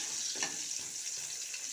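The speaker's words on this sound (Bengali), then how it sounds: "এখন আমি পটল আর বেগুনটা ভাজতে দিয়ে দিচ্ছি" Pointed gourd and eggplant frying in hot oil, a steady close sizzle with a brief louder crackle near the start and no voices.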